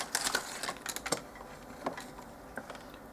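A knife slices through small doll-size carrots, producing faint, quick clicking taps in short irregular clusters on a quiet background.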